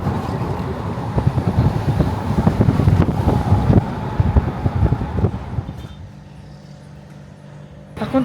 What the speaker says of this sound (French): le vent il est hyper chaud